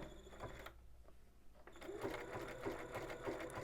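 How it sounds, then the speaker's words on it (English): A sewing machine runs a straight stitch down a boho bag, starting with a short burst, pausing briefly, then stitching steadily and loudly with a rapid mechanical whir and rhythmic needle clatter. "I'm just going to do a straight stitch all the way down"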